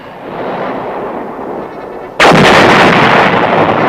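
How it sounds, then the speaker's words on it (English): Artillery fire from 8-inch self-propelled and 155mm howitzers: a sudden loud blast cuts in partway through, over a rumbling noisy background, with no talk. "8-inch self-propelled howitzers and 155mm howitzers are an organic part of the division"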